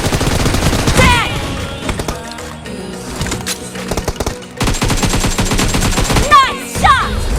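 Rapid bursts of automatic gunfire in the mobile battle-royale game PUBG, loud and close, with short pauses between strings of shots and a few brief game effects.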